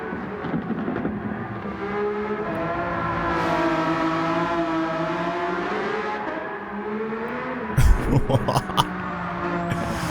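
V12 car engine pulling hard, its rising harmonic whine climbing and sweeping through the gears, then a sharp shift break with a burst of rough noise near the end; close and loud.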